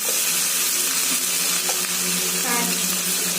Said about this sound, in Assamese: এনেকৈ ভাজিছে শাক